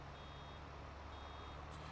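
Steady, faint reversing beeps from a farm vehicle in a farming simulation game, repeating evenly over a constant low engine hum with no talk.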